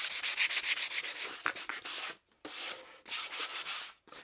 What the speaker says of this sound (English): Now we'll just take some 120 sandpaper and kind of take off some of the burrs on the